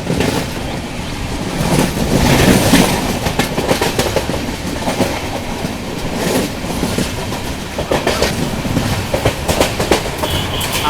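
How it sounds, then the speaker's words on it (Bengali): The Akal Takht Express races through Bahramnagar railway station at high speed, a loud sustained rumble of wheels on rails with repeated clickety-clack bursts and rattling, heard from inside the moving train. "আমাদের অকালতক এক্সপ্রেস এখন মারাত্মক স্পিডে বহরমনগর রেলওয়ে স্টেশন স্কিপ করছে।"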